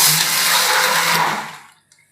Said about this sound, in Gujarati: આપણે બ્લેન્ડરથી આપણે પીસી લેશું.